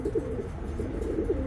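A racing pigeon cock coos in soft, repeated throaty bursts, close and steady across the short stretch, with no talk over it.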